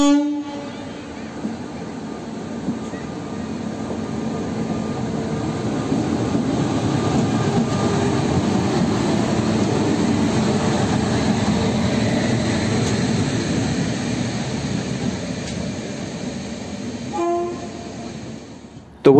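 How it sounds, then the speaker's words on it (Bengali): The 12337 Howrah–Bolpur Shantiniketan Express pulls out of Howrah station from platform 12. A steady, swelling rumble of the moving train fills the stretch, with short horn blasts at the start and again near the end. "আমাদের ট্রেন হাওড়া স্টেশন থেকে রাইট টাইমে ছেড়ে দিল।"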